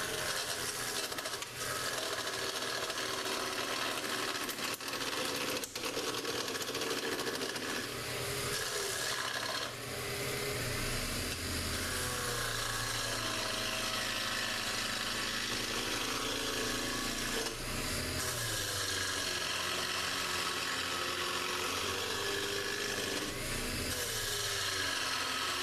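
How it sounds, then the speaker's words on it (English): Wood lathe turning a fishing rod handle blank round with a 3/4 inch roughing gouge, a steady close scraping and rasping drone with a few brief knocks and changes in bite, no talk. "So I'm going to go with my 3/4 inch roughing gouge,"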